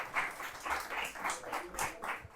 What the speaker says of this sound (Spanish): no puedo iniciar este conversatorio sin un fuerte aplauso para los estudiantes de periodismo del programa